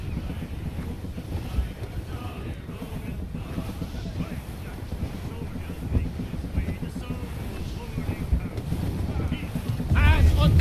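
A sailing ship setting full sail in Assassin's Creed Rogue: steady wind rush, creaking hull and sea wash roll on continuously, swelling louder toward the end, with voices talking over it.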